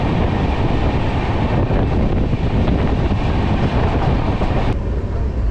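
Chozhan SF Express train running at over 100 km/h through Meenambakkam railway station, a loud steady rumble and rush of wheels and wind with no let-up.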